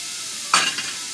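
One cup of chopped onion hits a hot pan for Cajun crawfish pie, a sudden sharp sizzle burst over a steady background hiss that settles quickly.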